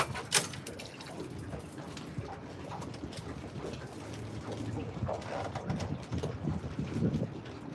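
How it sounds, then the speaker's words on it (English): Strong wind gusting over Lake Oconee on a fishing boat, rumbling as low buffeting against the microphone, with bird calls and occasional knocks on the boat mixed in throughout. "That wind is something else today."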